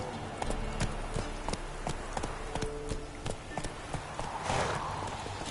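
Roach, Geralt's horse in The Witcher, walks with steady, evenly spaced hoof clip-clops that sound close and clear over a soft ambient game background, with no talking over them.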